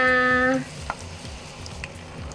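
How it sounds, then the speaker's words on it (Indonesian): Beaten egg fries in a pan, a soft crackling sizzle that carries on steadily after a brief tonal hum fades out at the start, with no one speaking. "Setelah itu waktunya kita goreng telurnya."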